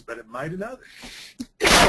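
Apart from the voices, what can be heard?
sneeze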